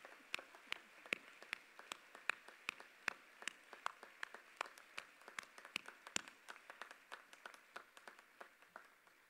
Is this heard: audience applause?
yes